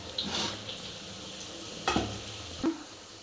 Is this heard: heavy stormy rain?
no